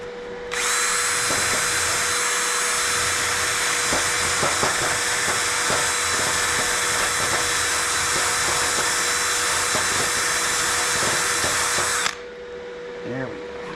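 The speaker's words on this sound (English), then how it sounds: "run the wire brush over it" A power tool spinning a wire brush grinds steadily and loudly against the axle saddle of a Ford F600 rollback truck, a continuous high whirring scrape for about twelve seconds before cutting off abruptly.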